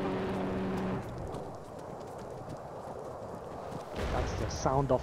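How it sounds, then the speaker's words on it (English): In a video game, a 3-pound TNT charge thrown at a Chinook helicopter goes off as a sudden broad blast late in the sequence, following a stretch of rumbling background noise, with voices heard around it. "That was the sound of a 3-pound TNT charge being thrown at the Chinook."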